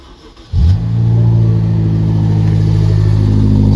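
A BMW X5M engine starts and settles into a deep, steady idle with its exhaust flaps open, the low rumble booming loudly and evenly from inside the car with the door open, no rattling or talking.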